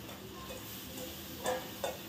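Finely chopped almonds, cashews and coconut are stirred into a sizzling mixture in a pan, giving a soft continuous scraping and frying hiss with a couple of brief louder knocks near the end.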